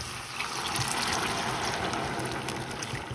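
Warm water is poured into a pan of fried pancetta and onions, a steady rushing, hissing stream lasting a few seconds, close and even, with no voices.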